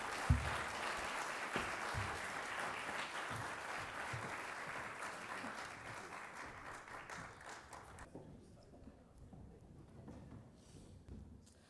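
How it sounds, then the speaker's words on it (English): Sustained applause from a large crowd, dense clapping that stays loud for several seconds and then thins out and fades toward the end. "Let's give them all a big round of applause."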